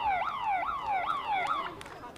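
A loud, wailing siren rises and falls in four quick repeated sweeps, then cuts off abruptly, marking the end of the first quarter at a field hockey club match.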